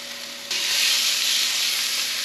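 Caribou roast searing in a very hot frying pan, a steady loud hiss that jumps up suddenly and then holds as a continuous close sizzle.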